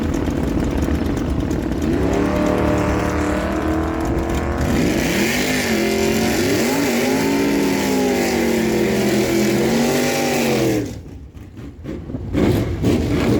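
A 1980 Datsun 280ZX and a 1973 Plymouth Duster drag race down the strip, engines roaring loud and close then climbing through rising, wavering revs and gear changes before cutting off abruptly to quieter, distant noise.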